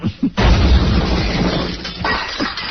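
A radio show sound effect of someone falling onto glass: a dense, loud crash and shatter bursts out and slowly decays, with a smaller crunching crash following shortly after.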